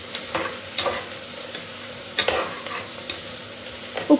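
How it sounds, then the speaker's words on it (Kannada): Onions sizzle in a hot pan while being stirred, a steady frying hiss broken by a few scraping strokes of the spoon, close and fairly loud, no one talking. "ಈಗ ಉರಿ ಮತ್ತೆ ಜೋರು ಮಾಡಿಕೊಂಡು ಫ್ರೈ ಮಾಡ್ಕೊಳ್ತಾ ಇದ್ದೀನಿ."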